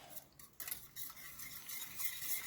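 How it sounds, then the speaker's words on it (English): A utensil stirs melting Gouda cheese fondue in a pot, quiet scraping strokes against the metal with a faint sizzle underneath, close and soft. "You just want to make sure that you keep stirring it, because scorched cheese on the bottom of a pot is no fun"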